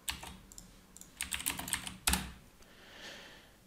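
A command is typed on a computer keyboard to change into a working folder, giving a close, quiet run of irregular key clicks with a louder stroke near the middle and no talking.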